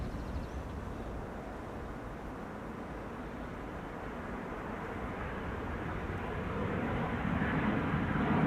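A Boeing C-17 Globemaster arriving at Schiphol makes a broad, distant jet roar. It stays steady and low, then grows slowly louder toward the end.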